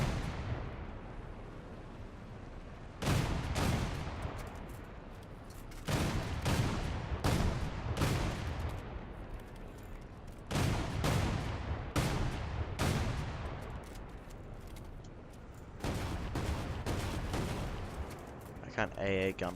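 A ZSU 57-2 twin anti-aircraft gun fires in War Thunder, loud bursts of heavy cannon fire repeating every second or two between short quieter gaps, with game noise running underneath.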